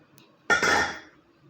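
A lid set down onto a cooking pot of rice with vegetables, a single sharp metallic clank that rings briefly and fades, close and alone.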